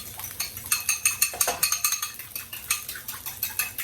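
Two eggs being beaten in a bowl with a fork or whisk, a steady run of quick rhythmic clinking taps against the bowl, close and fairly loud, with no talk.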